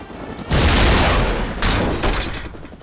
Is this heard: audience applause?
no